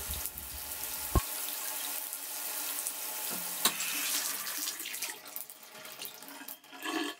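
Water runs steadily from a newly replaced bathtub spout, a continuous splashing rush into the tub that starts abruptly near the beginning and carries on without talk.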